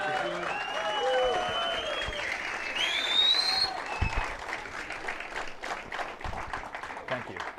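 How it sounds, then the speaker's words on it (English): A lecture audience breaks into loud, sustained applause for a speaker, dense clapping with a brief whistle and crowd noise, tapering into scattered claps toward the end. "let's have a big round of applause for Jason Bermas."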